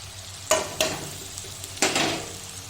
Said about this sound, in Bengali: পেঁয়াজটা আমার ভাজা ভাজা হয়ে গেছে এই যে এবার মশলাটা দিয়ে দেবো